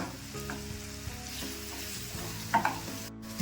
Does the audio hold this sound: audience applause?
no